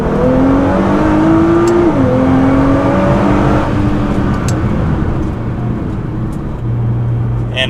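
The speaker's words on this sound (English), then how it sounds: "So now back into race mode, and now into valet mode," A tuned Nissan GT-R accelerates in its low-boost valet mode, the engine note climbing through a gear, dipping at a shift, then rising again before easing into a steadier drone, loud and close.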